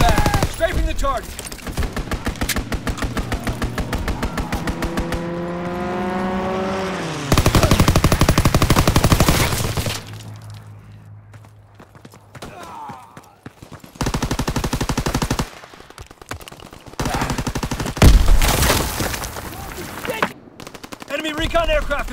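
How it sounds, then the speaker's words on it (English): Call of Duty WW2 gameplay fills with long, rapid machine-gun bursts from a strafing fighter plane, loud and close, with a descending engine whine, rattling volleys and short pauses between barrages. "Fighter pilot inbound. Strafing the target."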